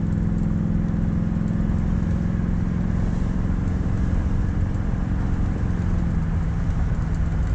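A 1966 Oldsmobile Toronado, an antique car that has been sitting, pulls away at about half throttle, its engine a steady, loud, close rumble and drone with even low-pitched tone throughout and no talk.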